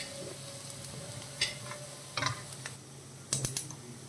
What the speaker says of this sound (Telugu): జీలకర్ర, వెల్లుల్లి వేసుకున్నాను, కరివేపాకు వేసుకున్నా అండి. ఇవి కాస్త గోల్డెన్ కలర్లో ఫ్రై అవ్వాలండి